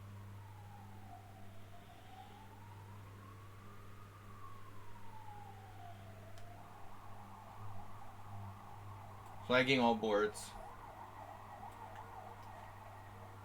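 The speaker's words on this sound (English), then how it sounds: "That's the ambulance." A faint, distant ambulance siren wails slowly up and down over a steady low hum, then fades as someone speaks briefly.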